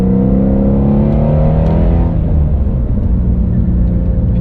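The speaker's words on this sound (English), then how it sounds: "The noise that engine makes." A deep, loud 2019 Shelby GT350R engine revs and rumbles continuously, its throaty tone rising and then settling into a steady roar.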